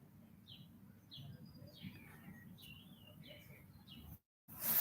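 Small birds chirp outdoors in short, high, repeated tweets, fairly faint and a little distant over low background noise, with a brief dropout near the end.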